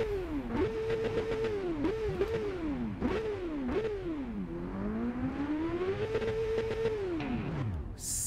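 A motorcycle engine in a street race revs hard and repeatedly, each rev climbing and dropping in pitch, then holds a long, rising howl before dying away. It sounds close and steady, with no talk.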